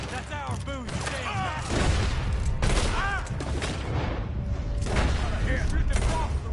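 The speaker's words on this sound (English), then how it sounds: "Shooting across the range." Gunfire in Red Dead Redemption 2 crackles and booms in bursts across a range, with several sharp shots and rumbling reports layered over in-game voices shouting.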